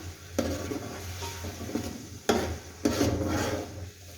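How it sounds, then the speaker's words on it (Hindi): Steady sizzling of garlic in a hot pan with a few sharp scraping stirs and clinks of a utensil, close and fairly loud, no voices. "लहसुन को भी अच्छी तरह पका लेंगे।"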